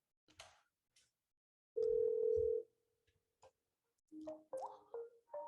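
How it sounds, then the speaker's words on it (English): An inbound call rings on a VoIP phone system integrated with Microsoft Teams, with a short steady ring tone in the middle and scattered clicks and soft tones around it. "I am going to place an inbound phone call to my phone here"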